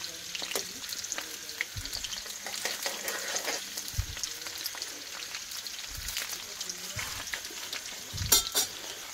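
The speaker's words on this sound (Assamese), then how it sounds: "এতিয়া আমি ঢেঁকিয়া আৰু আলুখিনি ঢালি দিম" Fiddlehead fern greens and potato frying and sizzling in a pan with onion, a steady close crackle broken by several low stirring knocks and scrapes.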